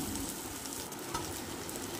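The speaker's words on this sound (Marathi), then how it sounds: "उकडलेले आलू पण मी तेलामध्ये परतून घेतले" Boiled potatoes sauté in oil with a soft, even sizzle and faint crackle, steady and alone for a couple of seconds.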